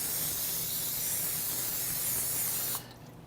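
Olive oil sprayed from a can onto a cooking surface for coho salmon gives a steady, close hiss lasting nearly three seconds before cutting off abruptly into quiet.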